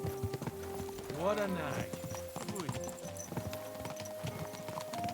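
Horse hooves clip-clop in a steady rhythm in the video game Kingdom Come: Deliverance II, moderately close, mixed with game music and a brief spoken line.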